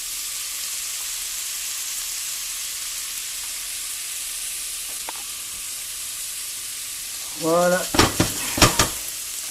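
Onions sizzle steadily in a frying pan, a constant soft hiss, joined near the end by a few clattering scrapes of a utensil against the pan; a voice speaks briefly.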